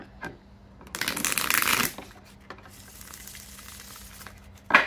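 A deck of tarot cards being shuffled and cut, one dense riffling burst lasting about a second, then softer handling sounds and a sharp card snap at the end, close and clear.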